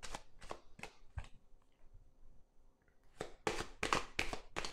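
Petit Lenormand cards being shuffled close up in a quiet room: a run of crisp riffling bursts, a brief pause with faint handling, then another cluster of sharper, louder shuffles.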